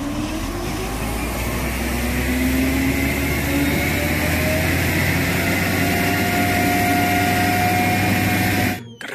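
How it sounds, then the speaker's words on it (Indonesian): A toy turbo jet fire truck's loud, steady engine drone with a rising whine runs continuously close by, then cuts off abruptly at the end. "Wah, mobil damkar turbo jet."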